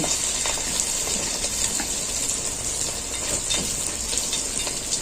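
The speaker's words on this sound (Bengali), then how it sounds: "এবার আমি এইভাবে চিকেনগুলো ভেজে নেব" Egg-and-cornflour-battered chicken pakora pieces fry in very hot oil, giving a continuous close sizzle with faint bubbling and occasional crackles, no talking.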